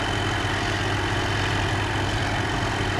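A 150 hp tractor engine idles in a farming video game, a steady low rumble with an even, unbroken drone throughout.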